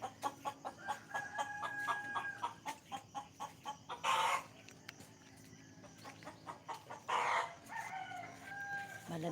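A rooster crows twice in a morning garden, each crow loud and sustained for about a second. Chickens cluck softly in short repeated notes between the crows.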